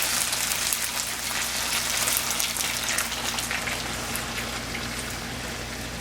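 Beef broth poured slowly into browned beef in a hot pan, giving a continuous watery splash and bubbling hiss that stays fairly close and steady.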